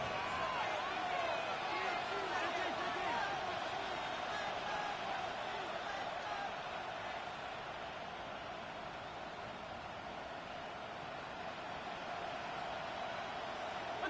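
Stadium crowd noise in an American football video game, a dense, steady roar of many voices with a commentator talking over it.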